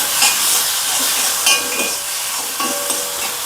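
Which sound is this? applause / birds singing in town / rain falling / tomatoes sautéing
tomatoes sautéing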